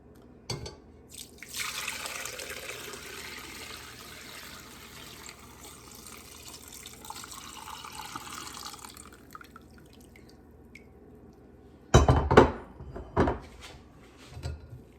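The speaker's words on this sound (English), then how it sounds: "I'm gonna pour it in." Chicken bone broth pours steadily through a strainer for several seconds with a soft, continuous splashing, then stops; a few sharp clinks and knocks follow near the end.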